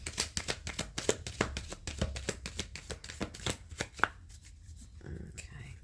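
Tarot cards being shuffled for a reading, heard up close as a rapid series of crisp riffling slaps and flicks that slows and fades near the end.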